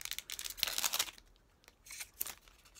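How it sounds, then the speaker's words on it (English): Slightly dull scissors cutting open a Pokemon trading card booster pack, crisp snipping and crinkling foil bursts close up, with a pause before a few more cuts. "Ooh, these scissors are a bit dull."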